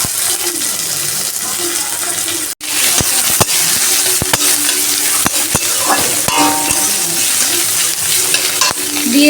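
Chopped onion frying in oil with cloves and cardamom, a loud close steady sizzle with frequent sharp spoon knocks and scrapes against the pan, no voices.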